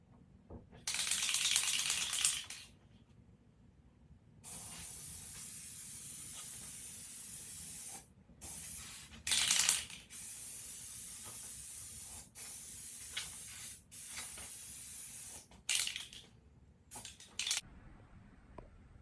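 Spray paint hisses in bursts of several seconds as stripes go onto the trunk of a Dodge Challenger, with short pauses between passes and a can's rattle in the gaps, close up and with no talking.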